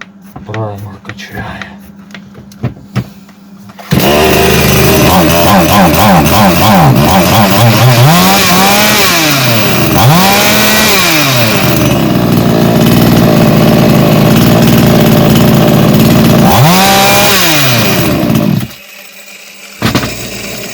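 A PRO CRAFT GS-450 petrol chainsaw runs loud and close after a few seconds of quiet handling noises, its two-stroke engine revving up and down repeatedly before cutting off near the end; a voice is heard faintly.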